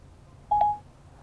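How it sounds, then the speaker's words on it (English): A short electronic chime from Siri activation in Audi CarPlay, sounding as two quick bright beeps followed by a brief held tone, clear against a quiet car interior with no talking. "press and hold the talk button on the steering wheel until you hear a tone"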